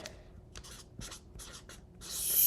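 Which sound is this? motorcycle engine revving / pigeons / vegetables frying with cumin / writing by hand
writing by hand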